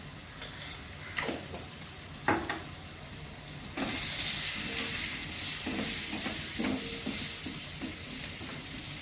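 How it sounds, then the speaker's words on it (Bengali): Pumpkin pieces fry in a pan with salt and turmeric. A few stirring clatters come first, then a loud, steady, close sizzle takes over and continues with occasional scraping. "কুমড়োগুলো এখন ভাজা হবে।"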